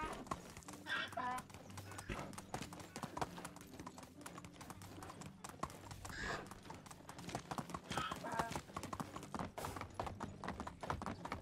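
Steady clip-clop of a ridden horse's hooves in the medieval game Medieval Dynasty, a continuous brisk rhythm at moderate volume, with a faint whinny and some quiet talking over it.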